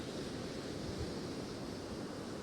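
Steady wind buffets the microphone with a low, rushing roar, blending with the wash of surf on a Northumberland fishing beach.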